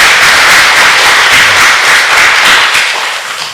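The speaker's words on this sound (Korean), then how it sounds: "다시 한번 뜨거운 박수를 부탁드리겠습니다" Dense, loud applause fills a church worship service at Yongsan First Church, a sustained close wash of clapping that tapers slightly at the end.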